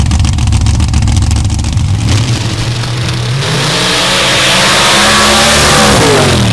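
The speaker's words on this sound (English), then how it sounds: "Side by side with Daniel Kerr, who jumped into this class last year, now with bigger horsepower" Dirt drag racing cars launching side by side, engines roaring loud and close, the tone climbing steadily as they accelerate down the dirt strip with no talk over them.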